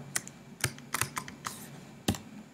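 Keys clack on a computer keyboard in a few separate presses with short pauses between, close and crisp over a faint background hum, with no talking.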